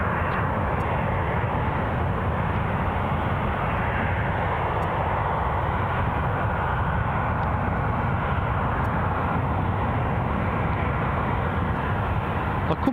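A distant airliner on a flight to Madrid roars steadily at Glasgow International Airport, a continuous broadband jet engine rumble that holds at an even loudness throughout with no talk.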